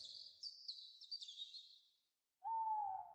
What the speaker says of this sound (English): the distant hoot of an owl